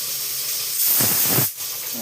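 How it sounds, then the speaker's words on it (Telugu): A pressure cooker whistle lets off a loud, close hiss of escaping steam. The hiss surges, then cuts off sharply and settles back to a lower steady hiss. "మళ్ళీ ఇంకొక విజల్ వస్తే ఆఫ్ చేసేద్దాం మనము"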